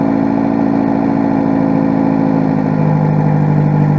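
A loud car engine idles steadily, a constant low rumble with no pauses, close by and alone.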